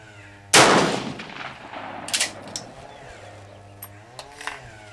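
A single close, sharp rifle shot at an outdoor range, fired from a boxer-primed case, cracks loudly and then fades into a rumbling echo, followed by a few faint clicks and knocks.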